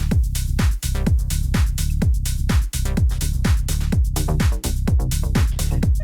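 Tech house track plays loud and alone, with a punchy four-on-the-floor kick and pitched-down bass hits pulsing steadily, with brief dropouts between bars.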